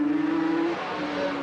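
A racing motorcycle engine, including a 3-cylinder Suzuki on a circuit, holds a loud, steady, close drone, then dips slightly in pitch partway through.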